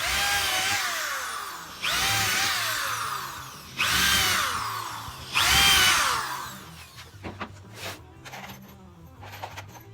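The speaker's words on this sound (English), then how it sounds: "I'm going to do 4 holes down here for the longer screws to hold the thing together." Power drill boring screw holes into a wooden garden bed leg, three loud whining bursts in succession with rising motor pitch, then lighter clicks and short spins as the drill winds down.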